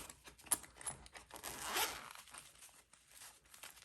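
A zipper on a Civivi knife pouch is pulled open in a few quick, close ripping strokes with soft rustling and crinkling between them, quiet overall.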